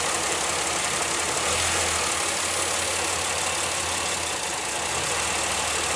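A Pontiac Aztek engine idles with a steady, close rumble while its RPM rises and dips slightly, a fault being traced around a vacuum line.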